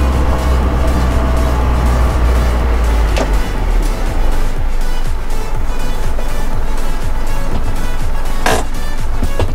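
An Isuzu Elf NPS81 4x4 truck drives in four-wheel drive over sandy ground, a loud, steady engine drone with deep low rumble and continuous road and wind noise.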